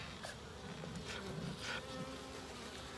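Honey bees, drones among them, buzzing close around an open top bar hive during a midsummer inspection, a dense steady drone with individual bees swelling louder as they pass near, no voices.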